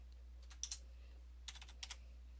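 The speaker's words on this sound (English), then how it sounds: "so I'm going to type it in here" A few quick bursts of computer keyboard keystrokes, clustered in two short runs of clicks against a quiet background with a low steady hum.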